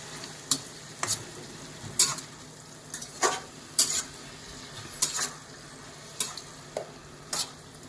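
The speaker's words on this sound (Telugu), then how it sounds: "కరివేపాకు వేసుకుందాం. సో వేసుకున్నాం కదా, ఒకసారి కలుపుకుందాం బాగా." Cauliflower curry with curry leaves stirred in a hot frying pan, sharp regular spoon scrapes against the pan roughly every second over a steady low sizzle, close and clear, no talking.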